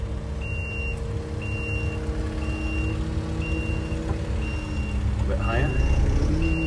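A truck backs up slowly with its reversing alarm beeping in an even, repeating rhythm over a steady engine rumble, while a person speaks briefly nearby.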